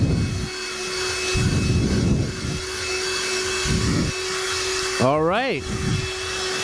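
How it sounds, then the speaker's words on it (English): An Ardu vacuum cleaner runs on a car's interior carpet, its steady motor drone with pulsing surges as it is pushed back and forth, while someone talks briefly over it. "I got the Ardu vacuum right here, so let's get to it"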